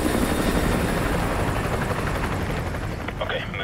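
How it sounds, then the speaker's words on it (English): In the Call of Duty Modern Warfare 2 Remastered campaign, a helicopter thunders close overhead with a heavy, steady rotor roar that eases slightly toward the end, while radio voices speak over it. "Chopper inbound, keep low."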